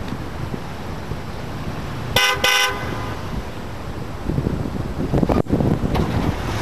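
A regular vehicle horn on a truck later fitted with a four-trumpet train horn gives two short honks in quick succession, cutting through steady wind noise outdoors.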